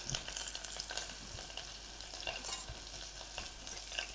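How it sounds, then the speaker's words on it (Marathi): Masala bhat frying in a pan as curry leaves and coriander are stirred in, with a steady sizzle and repeated soft scraping stir strokes, close and without talk. "हे सगळं टाकलं की असं मिक्स करून घ्यायचं।"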